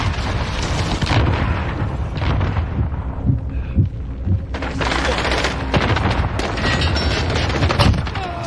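Heavy booms and crackling blasts roll through a Modern Warfare match after a cruise missile strike, loud and dense, layered with bursts of gunfire and rumbling debris.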